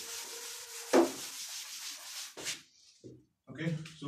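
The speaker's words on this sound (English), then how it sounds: "now I will rub this off." Chalk writing being rubbed off a classroom board during a maths lecture, a close scrubbing swipe and a few brushing strokes broken by short pauses, with a voice briefly speaking.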